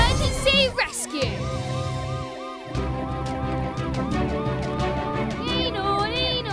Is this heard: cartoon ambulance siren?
yes